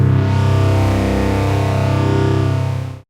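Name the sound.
FM8 synthesizer Baby Got Beef preset chord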